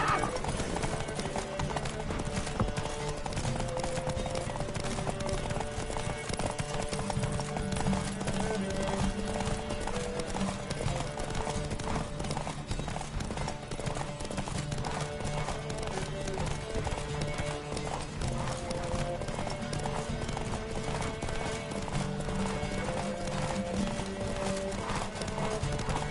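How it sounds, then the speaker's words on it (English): A horse gallops in a race in The Witcher video game, with rhythmic hoofbeats running continuously under game music and occasional voices. "Don't spare the horse! I adore the speed, the rush of air."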